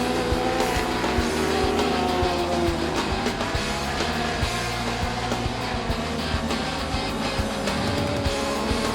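Sprint cars roar around a dirt track in a heat race, engines blaring loud and continuous with overlapping passes and tire squeal, no voices heard.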